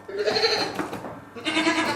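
Two goat bleats, harmonic and wavering, the first starting early and the second near the end, with a short gap between them, both close and fairly loud.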